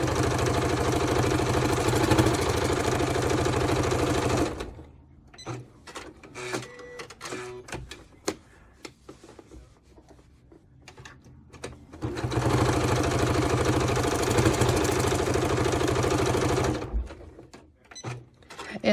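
A sewing machine with a walking foot quilts straight lines through a quilt block, running in two long steady bursts of loud, even stitching, separated by a quieter gap of handling clicks and rustles.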